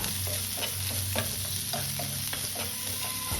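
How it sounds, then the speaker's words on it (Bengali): Chopped onion frying in hot oil tempered with fenugreek, a dense continuous sizzle with repeated spatula scrapes and taps against the pan, close and steady. "তারপর ওই তেলে ফোড়নে মেথি দিয়ে কিছুটা পরিমাণ কুচানো পেঁয়াজ দিয়ে ভালো মতো একটু লাল"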